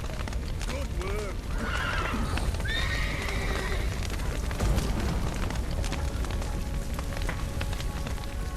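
Horses neigh and whinny repeatedly over steady clip-clopping hooves in The Witcher 3: Wild Hunt, with constant outdoor ambience and occasional voices mixed in.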